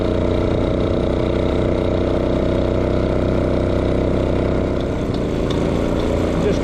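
A vintage motorcycle engine runs steadily and loudly close by on an outdoor ride, a continuous dense rumble with a slight change near the end.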